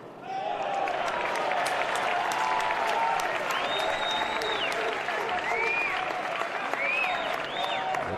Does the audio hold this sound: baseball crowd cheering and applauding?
yes